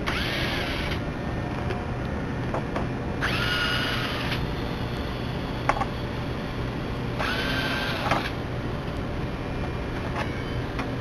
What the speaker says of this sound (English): remove the template by simply removing the 4 corner screws that were used to hold down the template